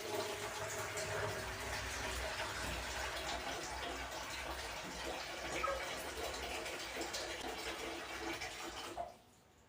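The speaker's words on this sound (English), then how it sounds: "I'm going to put some water, cold water, in a basin." Cold water pours steadily into a basin at home, a continuous splashing rush that holds for about nine seconds and then cuts off abruptly.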